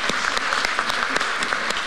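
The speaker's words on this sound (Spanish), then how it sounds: "Doble aplauso entonces." Audience applause in a committee session on fundamental rights, a steady patter of clapping with sharp individual claps standing out, fairly close and continuous with no talk.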